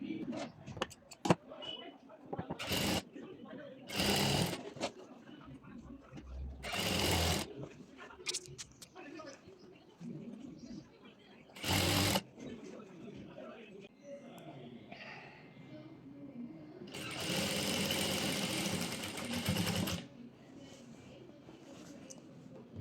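A sewing machine stitches palazzo pants in short separate bursts of whirring. The longest run comes near the end. Someone talks quietly between the bursts.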